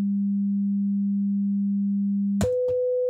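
A pure, steady 200 Hz sine tone from a Pure Data oscillator hums evenly, then a sharp click and the pitch jumps to a higher steady tone.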